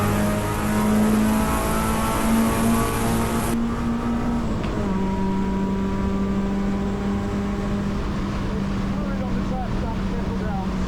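A race car at Road America accelerates hard on throttle, the engine droning loud and steady with a rising pitch, a short shift midway, then continuing to pull, heard from on board.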